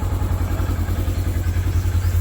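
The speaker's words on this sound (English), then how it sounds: "Let's take the Polaris out for a ride." A Polaris off-road vehicle's engine idles close by with a steady, low rhythmic chugging and faint mechanical clatter, holding an even level throughout.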